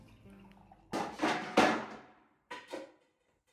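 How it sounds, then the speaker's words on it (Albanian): Metal frying pans are shifted and stacked, producing a few loud, close clattering bursts with ringing decay, separated by brief quiet pauses. "Më falni për zhurmën. Jam duke munduar të sistemoj disa tigan"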